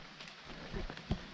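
Rain falls softly on a hillside, a faint steady patter with a few nearer taps and rustles, as if drops were striking a backpack.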